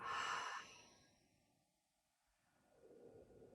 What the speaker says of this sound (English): start to take a big inhale breath and exhale out